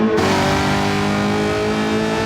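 A NASCAR Camaro ZL1 race car in a racing video game at Le Mans roars loudly and steadily at high revs, with a dense, continuous engine drone and no voices.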